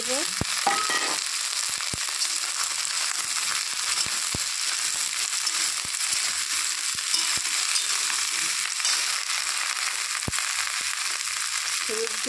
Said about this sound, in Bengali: পেঁয়াজ লঙ্কাও ভাজা হয়ে গেছে এখন আমি এর মধ্যে কেটে রাখা ভেন্ডিগুলো দিয়ে